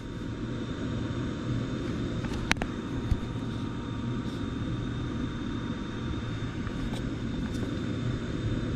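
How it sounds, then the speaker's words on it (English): A blower motor runs inside a new 2.5-ton ICP package unit, giving a steady, loud low rumble and whoosh with a faint tone on top and a couple of brief clicks. "I hear the blower motor running"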